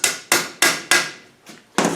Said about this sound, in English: then that should just tap into place